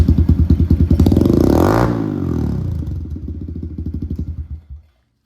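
A small pit bike engine revs hard through a loud, raspy Big Gun EVO aftermarket exhaust, climbing then falling back to a choppy idle before cutting off.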